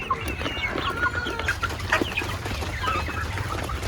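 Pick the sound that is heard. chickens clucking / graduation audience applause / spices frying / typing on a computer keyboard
chickens clucking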